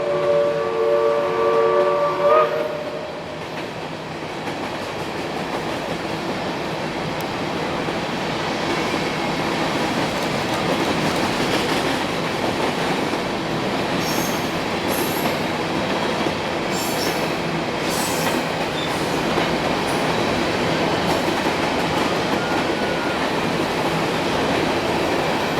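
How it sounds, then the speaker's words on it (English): Southern 4501 steam locomotive rolls across a bridge with its train, the wheels and cars making a loud, sustained rumble and clatter, high wheel squeals rising later, the roar holding at close range. "4501 then gracefully rolled across the bridge."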